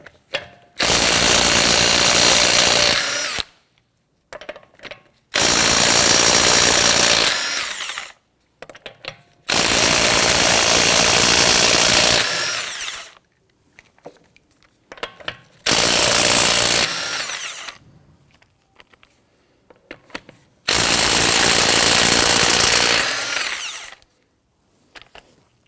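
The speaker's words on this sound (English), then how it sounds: "Using a 21mm socket, loosen and remove your lug nuts." A power tool with a 21mm socket loosens and removes lug nuts from a 2017-2020 Hyundai Elantra wheel in five loud, buzzing impact bursts of a few seconds each, separated by quiet gaps with small clicks and handling noises.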